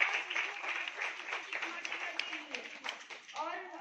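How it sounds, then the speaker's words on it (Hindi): An audience claps at a free sewing-centre event held by a community forum, with the applause running beneath a voice. She keeps talking over the clapping, which stays fairly quiet, and a louder voice comes in near the end. "और एक बार जोरदार तालियां बजाइए"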